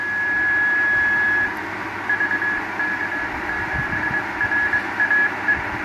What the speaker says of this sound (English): See if we can hear the beacon in South Australia.